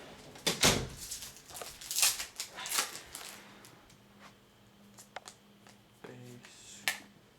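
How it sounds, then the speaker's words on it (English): A door being shut during a basketball card box break indoors, heard as a few sharp knocks and a clunk amid rustling and handling noises, with a brief voice later on. "I'm shutting the door."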